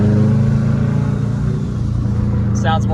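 A loud, steady engine roar from inside an accelerating turbocharged Subaru WRX hatchback with an EJ25 engine, ending with a brief sharp whoosh of air.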